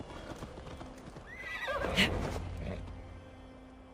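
A horse in the video game Assassin's Creed Valhalla gives a loud, wavering whinny over the soft clip-clop of hooves, with a quieter snort trailing after and a low background hum.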